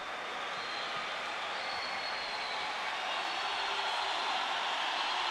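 Futsal crowd at the FIFA Futsal World Cup match between Australia and Brazil in 2016, applauding and roaring after a goal by Falcao; a dense, steady wash of cheering and clapping that swells slightly toward the end, with no voices standing out.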